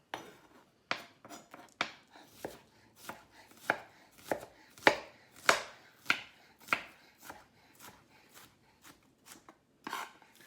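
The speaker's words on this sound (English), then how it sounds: "And fine chop with this too" A real chef knife finely chopping ingredients on a cutting board for a tuna melt, a steady run of crisp, close blade knocks in quick uneven bursts with short pauses, no one talking.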